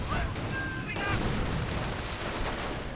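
Gunfire and grenade blasts from a war strategy video game, a muffled mix of rifle shots and low booms under a commentator's continuous speech.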